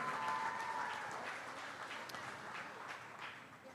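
A crowd at the Ohio State Fair Holstein cattle show gives a round of applause for the event organisers. The clapping is faint and distant, spread out, and fades slightly as it goes on.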